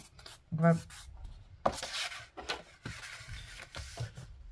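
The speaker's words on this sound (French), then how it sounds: "vous allez tracer un premier repère à 4 cm des bords" A pencil or pen tracing a guide line 4 cm in from the edges of paper or card for a 3D scrapbook frame, heard as short close scratchy rubbing strokes separated by brief pauses.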